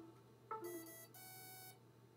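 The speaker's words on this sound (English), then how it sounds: "The motor was beeping again." A brief electronic chirp followed by a sustained, tonal beep from a drone motor's electronic speed controller during calibration, faint and clean against a low background hum.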